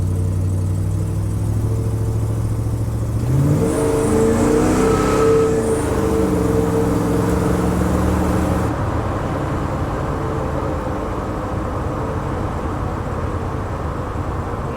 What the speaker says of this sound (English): It took off in first right there, then it went to 2, then it short shifted in third right away.